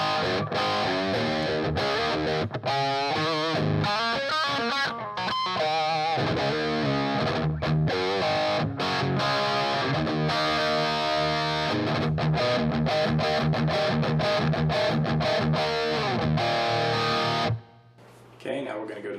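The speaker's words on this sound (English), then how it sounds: "here's some crunch on the bridge pickup" A Gibson ES-137 electric guitar on its bridge pickup plays distorted, crunchy chords and riffs, loud and continuous, stopping abruptly near the end before a short pause.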